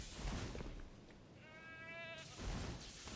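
A person imitates a goat with a short, wavering nasal bleat over a constant rumble of game sound during Elden Ring play.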